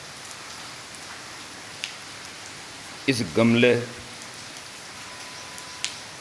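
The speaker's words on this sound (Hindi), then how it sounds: "बारिश हो रही है" Rain falls as a steady, soft hiss with occasional drip taps, while someone speaks briefly in the middle.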